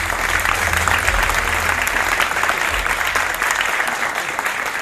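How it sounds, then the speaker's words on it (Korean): Sustained applause from an audience at a Halo 4 fan meetup talk show, steady and fairly loud throughout, with no talking over it. "큰 박수 부탁드려요"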